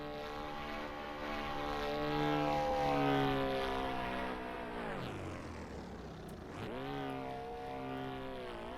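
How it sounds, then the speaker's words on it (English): The big engine of a large RC model plane drones steadily with a propeller whine, its pitch swelling and falling as the plane passes and turns, with two sharp dips as it swoops by. "Right away, you can hear the sound of the big engine."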